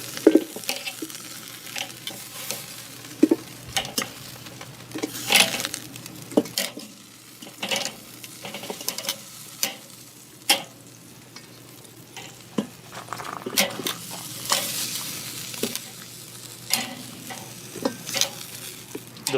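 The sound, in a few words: black garlic chicken wings sizzling on smoker grill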